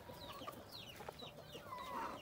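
Chickens clucking softly at a farm coop in Denizli during evening egg collection, several short broken calls and chirps scattered over a faint background, fairly distant and quiet, no speech.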